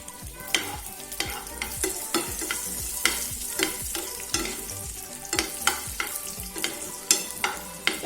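Cashew nuts and raisins frying in a pan, with steady oil sizzle and repeated sharp scrapes and clinks of a stirring spoon against the metal, close and busy throughout, no voices.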